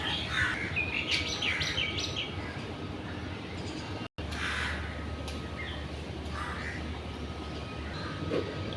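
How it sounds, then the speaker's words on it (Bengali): A bird perched atop a building in a village chirps in short, bright calls heard mostly early on, set against steady outdoor ambience with a brief dropout midway. "ওই বিল্ডিং এর মাথায় একটা পাখি বসে রয়েছে"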